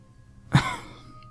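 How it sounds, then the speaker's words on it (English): A single sharp cough rings out close by, short and abrupt, in an otherwise quiet setting. "And now I can't stop coughing."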